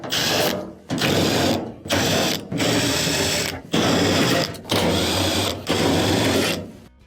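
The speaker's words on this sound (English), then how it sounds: "there are multiple 1/4 inch screws that'll need to be taken off" A power driver spins out quarter-inch screws from a clothes dryer's bulkhead in a series of loud, close bursts of about a second each, separated by short pauses, with no talking.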